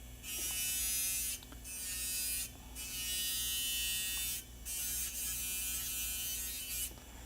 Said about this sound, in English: I'm going to work this through my grooves. Just coming in nice and slow.